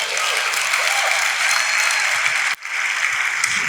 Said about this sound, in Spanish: Da un aplauso aquí.